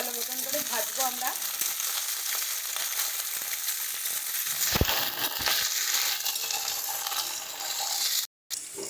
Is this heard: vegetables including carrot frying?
yes